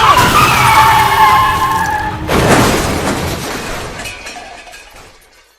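A car in a television drama skids loudly with a long screech, then crashes with a sharp impact that fades out over several seconds, alone with no talk.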